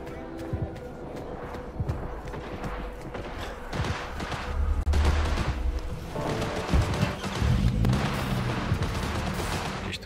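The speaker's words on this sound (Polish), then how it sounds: "Jakieś strzały słyszę." Gunfire in the video game Cyberpunk 2077, with irregular bursts of shots crackling through a dense, busy game soundscape at moderate distance and with no talk over it.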